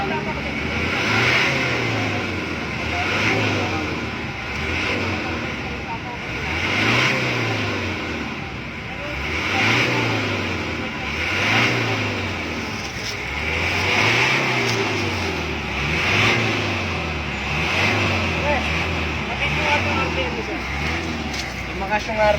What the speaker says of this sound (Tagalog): Gano'n yung takbo ng makina, wala na.